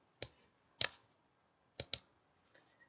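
Several close computer mouse clicks, sharp and quick, some in a double-click pair, with brief quiet gaps between them and a couple of fainter clicks at the end.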